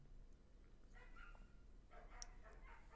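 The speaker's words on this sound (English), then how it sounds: "There's a dog." A dog barks and yelps a few times, faint and somewhat distant, in short bursts toward the end of a quiet stretch with low background hum.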